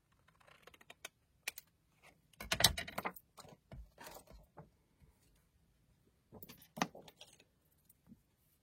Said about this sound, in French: je prends mes ciseaux, je me coupe une petite lanière